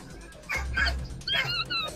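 Three dogs bark and yip in quick, excited bursts while teasing a horse outdoors, several short sharp calls overlapping at close range.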